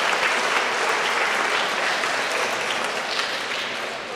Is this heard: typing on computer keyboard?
no